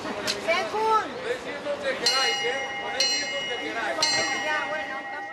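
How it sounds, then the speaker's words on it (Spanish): A railway station departure bell rings three distinct times at a steady pace, each strike bright and ringing out, heard under continuous talking and background murmur. "antes de salir un tren de una estación de viajeros se hacía uso de la campana"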